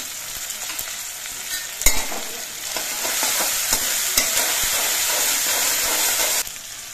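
Green chili paste fries in a pan over a low flame, steady hissing sizzle with repeated scraping and tapping of a spoon as it is stirred.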